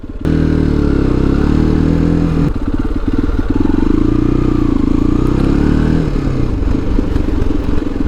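A motorcycle engine idles loudly and steadily, its low rumble shifting pitch slightly as the throttle changes, with no voices.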